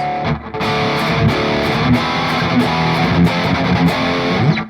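Heavily distorted electric guitar through an STL Tonality cab sim with an SM57 placed toward the speaker edge, dense chugging riff with steady palm-muted hits, darker tone, played alone at high level.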